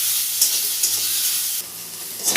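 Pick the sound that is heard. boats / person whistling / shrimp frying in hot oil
shrimp frying in hot oil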